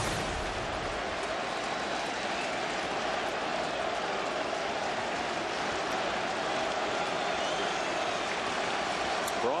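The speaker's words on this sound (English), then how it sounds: "And a crowd coming alive here at Miller Park as Braun takes a strike from Marshall." Baseball crowd at Miller Park cheering during a Cubs at Brewers game, a dense, loud, unbroken roar of many voices that holds steady throughout.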